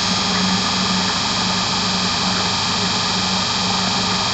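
An electric motor with combined windings runs at high speed, about 1500 RPM, in a lab, with a constant, loud whine and hum that stays steady from start to finish.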